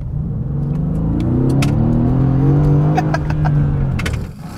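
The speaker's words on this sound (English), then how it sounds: "With all the valves open in the exhaust, it sounds like Armageddon." A Mercedes-AMG GT with its exhaust valves fully open revs and accelerates loudly and close by, a deep rumbling engine note rising and sweeping in pitch with crisp crackles from the exhaust, with no voices.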